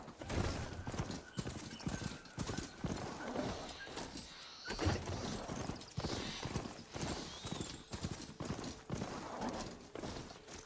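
A riding mount in Horizon Forbidden West plods along in rhythmic, close hoof-like footsteps, pausing briefly midway before continuing, with faint ambient game sound behind.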